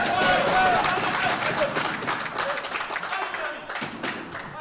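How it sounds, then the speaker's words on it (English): Pool match crowd at an Ultimate Pool event in Morocco clapping and cheering loudly, the applause strongest at first and then thinning into scattered claps. "the crowd really, really fired up for this one"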